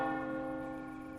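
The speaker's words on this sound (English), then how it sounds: "Until the distant bells chimed." Church bells ring with one sustained, resonant stroke and a long humming decay, steady and full, alone without any voices.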